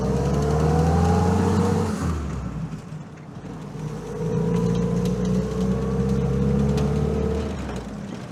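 A WW2 Willys Jeep engine revs hard as it pulls away on a road, rising through gears in a loud close drone, dipping briefly at a shift, then climbing again steadily.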